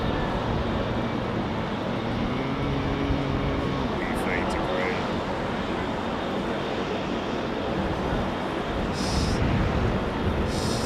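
A faded Thai Airways Boeing 777 airliner rumbles with a broad, steady roar at a busy airport, constant and fairly loud throughout, with brief radio-like chatter and voices over it.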